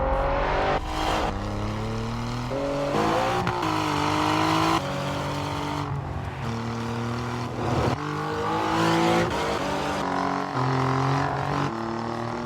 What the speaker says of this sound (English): Let's put this car on the track.